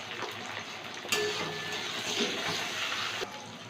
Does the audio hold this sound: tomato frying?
yes